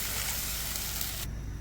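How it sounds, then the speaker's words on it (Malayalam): Water poured into a hot pan of sautéed tomato for a king fish curry, a loud close hiss and sizzle that cuts off abruptly after about a second. "ഇനി ഇതിലേക്ക് അല്പം വെള്ളം ചേർക്കാം."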